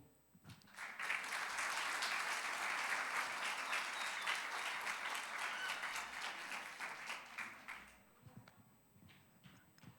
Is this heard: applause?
yes